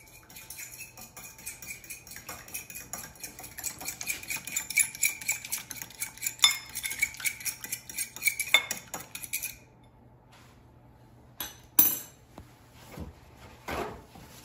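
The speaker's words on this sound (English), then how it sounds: "let's crack an egg in a bowl. And I'm going to whisk it." A whisk or fork beating an egg in a bowl, making a rapid run of light metallic clinks and taps for about nine seconds, then a pause and a few scattered knocks.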